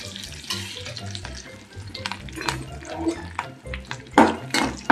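Mustard seeds and curry leaves fry in hot oil in a village kitchen, a close, crackling sizzle with irregular pops and bursts and no talking.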